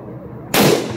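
A single shot from a Savage Axis .308 rifle fitted with a tanker muzzle brake, an abrupt loud blast halfway through that follows a quiet outdoor background and rings out briefly.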